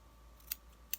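Paper being trimmed off a journal page with scissors: two short, crisp snips about half a second apart, close and quiet over a faint steady background hum.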